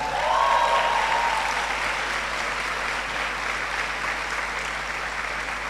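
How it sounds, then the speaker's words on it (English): An audience at a medical science faculty pledge ceremony applauds with dense, steady clapping that runs loud and continuous for the whole stretch, with no voices over it. "I think you should give them a special round of applause."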